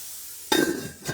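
Burger meat hitting a hot Saladmaster pan, a sudden loud sizzle starting partway in and holding steady with a light clink near the end.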